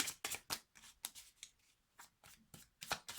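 Tarot cards being shuffled by hand during a card reading: a quick series of crisp riffling bursts with short pauses between them, close and fairly loud, with no voices.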